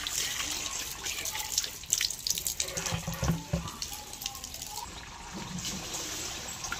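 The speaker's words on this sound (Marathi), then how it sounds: "आता बॅलर पाणी लावले भरायला" Tap water running into a barrel and drinking-water containers, a close splashing, gurgling flow with uneven surges and drips, fairly steady over several seconds without speech.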